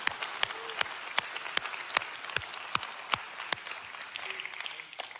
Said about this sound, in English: can we just give you one more round of applause this morning?